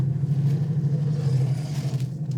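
A Mitsubishi L200 pickup drives at a steep angle, heard from inside the cab as a steady, close, low engine rumble and road drone that holds without a break.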